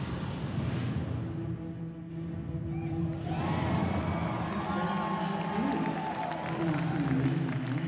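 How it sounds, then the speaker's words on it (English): An open audience microphone at Sony's E3 2017 press conference picks up a diffuse crowd murmur with scattered cheering and clapping, mixed with indistinct voices and a low background hum. "It's like they've got a crowd mic open,"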